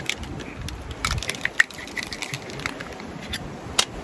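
A cocktail shaker holding Twisted Tea and sweet tea is shaken hard, giving a run of irregular, fairly loud rattling clatters with sharper knocks, and no voices.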